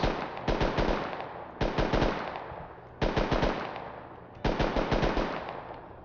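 Short bursts of rapid automatic LR assault rifle fire in the game Rust, four volleys spaced about a second and a half apart, each trailing off in echo.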